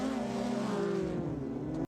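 A car in the Mad Max film revs hard and accelerates away across a field, a loud, steady engine roar with a slowly falling pitch that cuts off abruptly near the end.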